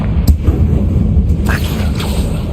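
A Confringo spell in Hogwarts Legacy bursts with a sharp crack followed by a short whooshing boom, set over a steady low game rumble.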